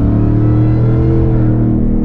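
Supercharged V8 in a second-generation Ford Raptor pickup rumbles loudly with steady low harmonics, a sustained rev held close up with no talking.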